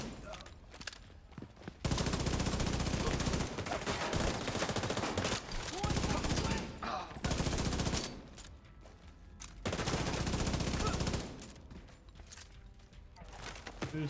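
Sustained bursts of loud gunfire in the video game The Division 2, long dense volleys broken by short pauses, with brief talking between them.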